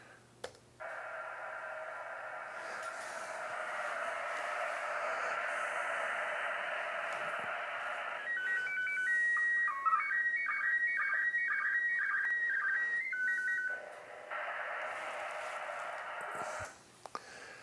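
ISS slow-scan television radio signal played back, a steady hiss of static giving way to warbling, stepped electronic tones from the image transmission, loud and continuous for over fifteen seconds.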